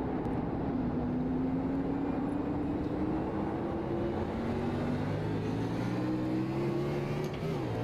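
A NASCAR race car engine in an esports racing game gives a continuous drone with the pitch slowly rising and shifting through gears, a steady mechanical roar with no voices over it.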